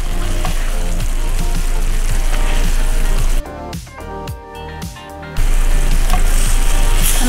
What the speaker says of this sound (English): I have it on a medium-low heat right now. Just gonna let that simmer.